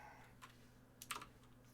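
Keys on a computer keyboard tapped in a few short, soft bursts against a steady low electrical hum, with a denser cluster of clicks near the middle, quiet and close.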